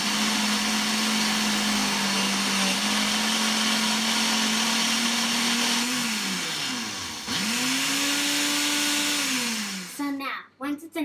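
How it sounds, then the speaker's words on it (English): A blender whirs loudly while processing frozen banana into soft serve, holding a steady pitch, dipping and rising again as the load shifts, then winding down and stopping near the end. "Then you're just gonna want to blend it until it's a nice consistency."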